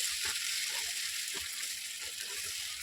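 Tomatoes with onion and ginger cook in a pan, giving a steady, close sizzling hiss with faint soft stirring scrapes and no talk.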